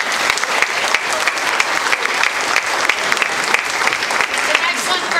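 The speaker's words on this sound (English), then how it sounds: "let's give them another round of applause" At a school board meeting, the audience gives loud, sustained applause, dense and continuous, with many hands clapping close together from start to finish.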